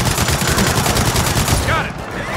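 Rapid turret gunfire in the Gears of War 4 video game on Xbox One X, a loud, dense continuous burst of shots that fills the clip with no clear pauses before easing slightly near the end.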